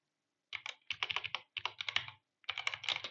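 Fingers typing a net user command into the Windows command prompt, heard as close, crisp bursts of rapid keystrokes with short pauses between words, in an otherwise quiet room.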